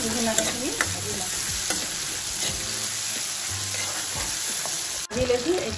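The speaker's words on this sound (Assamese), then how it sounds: "ভালকৈ ৰহুন আদাখিনি ভাজি লওঁ।" Garlic and ginger fry in a pan of hot oil for corn pulao, a steady close hiss and sizzle with light crackles and occasional stirring, and a faint voice in the background.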